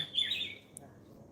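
At dawn, a single bird gives a short, high chirping call that rises and fades quickly, followed by a tiny tick, in a quiet setting with no talk.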